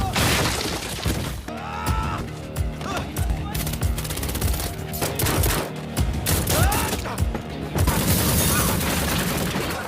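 Dense, loud gunfire from a film gunfight between an ex-soldier and militants, with overlapping automatic bursts, single shots and crashing impacts packed together without a break for the full stretch.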